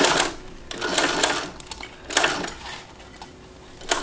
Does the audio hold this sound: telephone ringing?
no